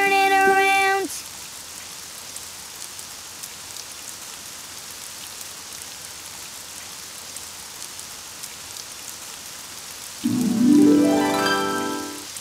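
Steady rain hisses evenly throughout, with short musical tones at the beginning and a rising tonal flourish near the end.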